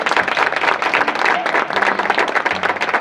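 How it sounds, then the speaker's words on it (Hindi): A crowd claps in loud, sustained applause that stays dense and even throughout. "जोरदार तालियां जिंदा खुदा के लिए"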